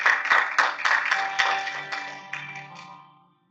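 A small church congregation claps along briefly in a quick, uneven flurry of hand claps that fades out within a few seconds.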